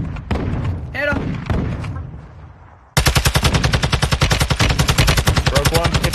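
In the Call of Duty Warzone 2.0 video game, automatic gunfire breaks out halfway through as a loud, fast, sustained burst of regular shots, after a stretch of players talking over game noise.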